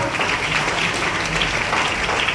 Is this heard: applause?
yes